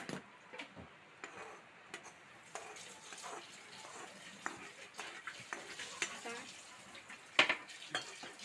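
Roasted coconut pieces tipped into a pan for unniyappam and stirred, with scattered scrapes and clinks of a spoon against metal over a faint sizzle, close and fairly quiet.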